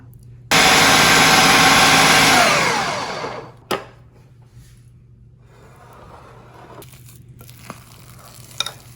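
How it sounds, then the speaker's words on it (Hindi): An electric grinder mincing cooked meat for shami kabab roars loudly for about three seconds and winds down, followed by a sharp knock and faint scattered handling sounds. "अब टाइम आ गया इसको ग्राइंड करने का। तो इसको आपने लिया और ग्राइंडर में डाला।"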